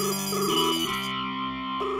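A phone rings on and on without being answered, a steady electronic ringtone melody with a distorted, buzzy tone playing loudly and alone.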